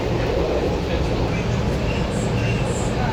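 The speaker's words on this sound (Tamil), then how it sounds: "இந்த ட்ரெயின் வந்து சரியான ஒரு நீட்டு ட்ரெயின் உண்டு" Long metro train at Castle Hill station: a steady, loud rumbling roar of rolling wheels and motors close by, with faint high squeals near the end and no pause throughout.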